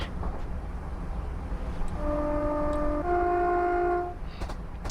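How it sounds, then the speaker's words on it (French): A Class 319 train's two-tone horn in Train Simulator sounds for about two seconds, shifting pitch midway, over a steady low mechanical rumble with a few faint clicks. "Vraiment pas ouf le klaxon."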